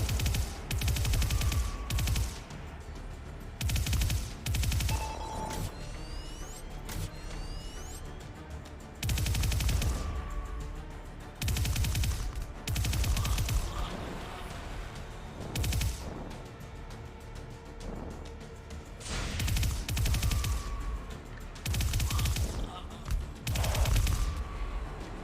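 SMG gunfire in the video game Re.Surs, repeated loud rapid bursts of automatic shots in clusters with short pauses between them, no voices over it.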